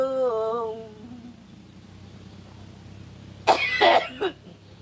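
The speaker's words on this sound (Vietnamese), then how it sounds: "chú đang bị ho rồi." Man coughing at close range, a short burst of two or three harsh, rough coughs near the end, after a brief stretch of faint sung melody and quiet room noise.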